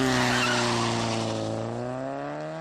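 A car pulls away in Persona 5, its engine note rising steadily as it accelerates, loud and close with a faint tire squeal, and no talking.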